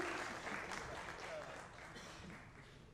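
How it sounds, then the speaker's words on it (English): An audience at a cybersecurity conference keynote in Kolkata claps together, a soft, even burst that slowly tapers off. "A huge round of applause"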